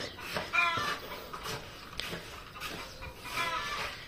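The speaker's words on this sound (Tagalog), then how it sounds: "Putputak, tingnan mo, putputak na French." A hen of a French breed clucks in short bursts in a farm yard, the calls coming in several separate clusters at close range, fairly clear with no talk over them.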